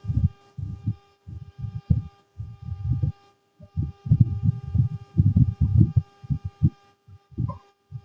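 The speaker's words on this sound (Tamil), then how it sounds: "எல்லாம் அந்த கவர்லேயே போட்டு தட்டிக்கிறேன், அப்போ தான் செதறாமல் நல்லா தட்ட முடியும்." Turkey berries (sundakkai) pounded inside a plastic cover, a steady run of dull, close thuds in uneven rhythmic bursts with brief pauses between groups.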